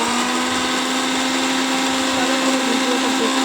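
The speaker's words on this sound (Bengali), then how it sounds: "তো আরেকবার তবুও আমি ব্লেন্ড করে নেব।" An electric blender grinds spice paste for mango oil pickle, a loud, continuous high-pitched whirring motor running steadily throughout.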